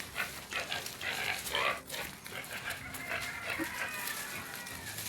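Farm pigs make noise at feeding time in the afternoon, with squeals and grunts at a middle distance over outdoor background sound and a dog whimpering at times.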